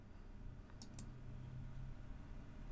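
Two quick, faint computer mouse clicks in close succession in a quiet room, followed by a soft thump at the very end.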